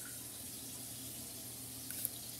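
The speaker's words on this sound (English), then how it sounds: "So, yeah, got the water." Water from a kitchen tap runs steadily into a pot, a soft continuous rushing hiss with no talking and a tiny clink near the end.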